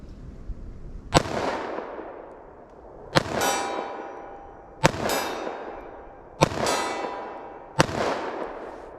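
Five sharp 9mm +P gunshots from a snub-nose revolver crack out at a steady pace outdoors, each loud report followed by a ringing decay before the next.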